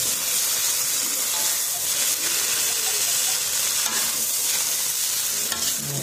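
Garlic frying in a hot wok, a steady loud sizzle and hiss that carries on without pause, close up with no talking.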